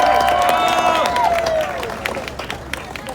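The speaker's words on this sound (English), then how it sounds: "Let's give another round of applause to our Queensboro president" An audience at a Queens Rises Against Hate rally in Flushing applauds the Queens borough president, a burst of clapping with a raised whistle or cheer that fades into scattered claps.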